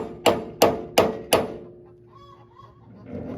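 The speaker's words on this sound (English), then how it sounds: "just tapping it with a punch, trying to get it to loosen up" A punch taps on a gear puller fitted to a hammer mill bearing on a mixer-grinder, with penetrating oil applied, trying to work it loose. Four crisp metallic strikes land in a quick, even rhythm, then a quiet pause follows.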